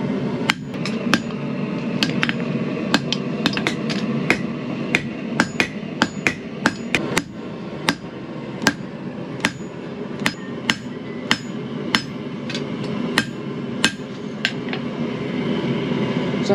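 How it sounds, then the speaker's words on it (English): A blacksmith hammers steel while forging a skinner knife, sharp metallic strikes ringing out at an uneven, steady pace over a constant low roar, with no voices. "it takes about 2 hours of just hammering and pretty much just a lot of hammering and elbow grease"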